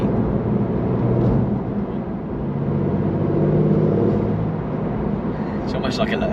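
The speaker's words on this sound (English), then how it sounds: "It's actually like a dump valve." A Porsche 911 992.2 GTS Targa hybrid engine spooling with a steady loud whirring drone from inside the car, then a short hissing release like a dump valve at the end; someone talks over it.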